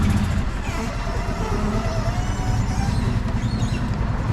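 A golf cart drives off in a chase after a 50cc Polaris four-wheeler: a steady, close motor drone with a low rumble and rattling runs without a break, with no clear change in pitch.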